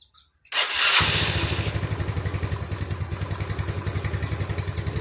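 A motorcycle with a 12.7-volt battery cranks briefly, fires up and settles into a steady, loud, close idle with a regular pulsing beat.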